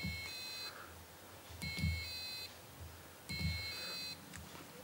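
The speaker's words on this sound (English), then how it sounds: "send a sound to that little buzzer" An electronic buzzer triggered by a push button sounds in three spaced bursts of steady high-pitched beeping, each lasting about a second, over faint background hum.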